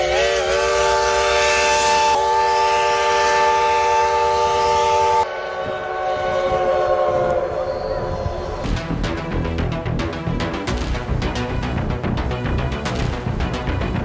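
A steam locomotive sounds its whistle in long, loud, sustained harmonic blasts, then the train rumbles and clatters along the rails with a dense, rhythmic mechanical roar.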